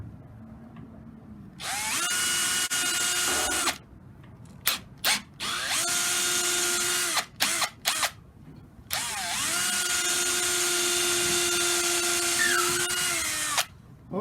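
A long 10- to 12-inch brad point bit drills into a swollen particleboard and wood shelf upright, running as a loud, steady whine in several bursts of a few seconds each, with brief stops and short restarts between runs.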